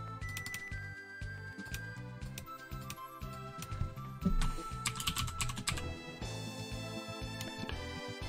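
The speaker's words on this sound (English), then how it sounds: "I can just type in the filter manually" Typing on a computer keyboard up close, rapid uneven bursts of clicking keys with brief pauses, entering a filter by hand.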